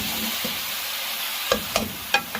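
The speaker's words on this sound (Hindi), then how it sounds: "10 मिनट तक मटन को भूनेंगे" Mutton roasting in a karahi pan, a steady low sizzle with several sharp scraping strokes of a spoon stirring the meat, close by.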